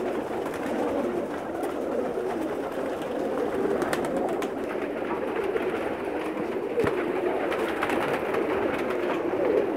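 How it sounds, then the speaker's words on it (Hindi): Soft pigeon coos from Pakistani pigeons in Jeddah over a steady outdoor background hum, with faint bird calls scattered throughout and no talking. "स्पेशल कबूतर दिखा रहा हूँ उनके मैं।"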